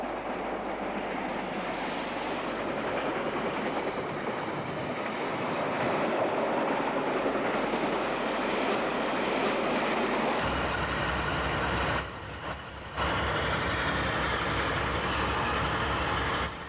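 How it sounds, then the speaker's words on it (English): A Swindon-built intercity diesel multiple unit pulls into Paddington in the late 1960s, a steady loud engine drone and rolling wheel noise that holds throughout, briefly dipping before resuming. "Arriving at Paddington was this Swindon intercity unit."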